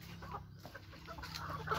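Quiet, scattered clucking from chickens close by, soft short calls over a low steady hum.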